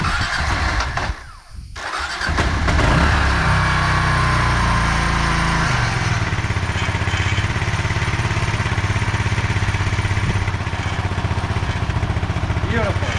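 A Kawasaki KLR650 motorcycle single-cylinder engine cranks, catches and settles into a steady, loud close-up idle that runs alone for over ten seconds.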